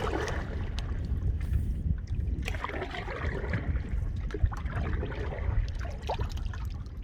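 Wind blows steadily over Lake Alexandrina on a Murray River canoe trip, a constant low buffeting roar with faint water lapping, close and continuous throughout.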